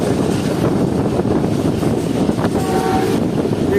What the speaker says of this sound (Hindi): ये ट्रेन एग्जैक्टली 11:14 पर स्किप कर रही है सिहाला रेलवे स्टेशन को।